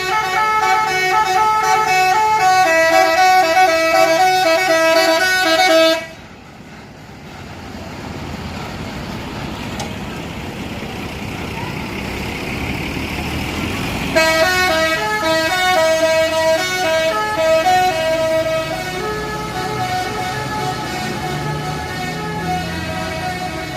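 Tour buses in a parking lot sound telolet horns, loud multi-tone musical melodies that play, stop abruptly into engine and crowd ambience, then return with further horn tunes.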